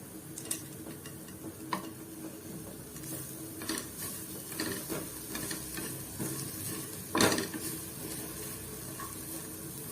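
Grated coconut with black pepper is sautéed in a pan for a Tamil white bitter gourd theeyal, giving a steady soft sizzle with scraping stirs and occasional clicks of the spatula, close by and without talk.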